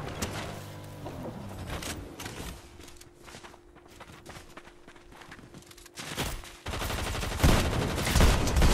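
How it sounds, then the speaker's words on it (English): Fortnite gunfire cracks in rapid bursts amid footsteps and game noise, quieter mid-stretch, then swelling into dense, loud repeated shots near the end. "I can see some shooting"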